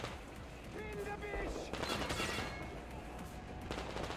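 Gunfire in the video game Metro Exodus, a steady wash of shots and bursts mixed with game sound effects, with a person talking over it.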